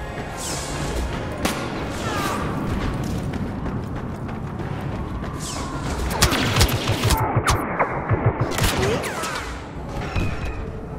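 Blaster fire aimed at an AT-AT walker in Star Wars Battlefront, a dense, loud battle din of overlapping shots and explosions, with sharp zips and swelling booms over a constant roar.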